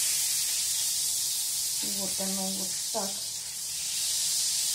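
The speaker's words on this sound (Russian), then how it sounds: "Сейчас я растоплю масло." Butter melts in a pan on the stove with a steady broadband hiss and sizzle that runs throughout, loud and close, while a person speaks briefly over it.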